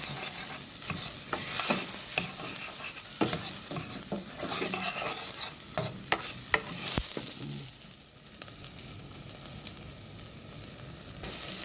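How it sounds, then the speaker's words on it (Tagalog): Rice being sautéed and stirred in a pot for arroz caldo, with steady sizzling and repeated scraping of a utensil against the pot, close and moderately loud with no talking. "Ayan, nagisa na nga yung bigas."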